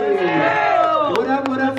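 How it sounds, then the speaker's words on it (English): A crowd at an Orlando Informer meetup in December 2021 whoops and cheers in a loud, close burst, with overlapping shouts and yells. "Make some noise for yourselves, Orlando Informer."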